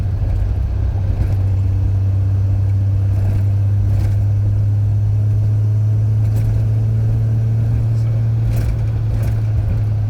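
A 1974 Triumph TR6 drives over bumpy, uneven road, its engine a steady low droning hum inside the cabin with occasional soft knocks from the bumps, a voice talking over it.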